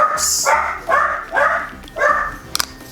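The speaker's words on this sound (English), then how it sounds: "Every day when Xavier gets home, he starts barking like that." A dog barks indoors in four loud, evenly spaced bursts, then a couple of short sharp clicks at the end.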